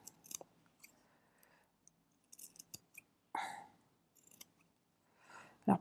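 Small scissors snip small squares for an embellished quilt block: sparse, quiet, close-up cuts come one or two at a time, with short silences between them.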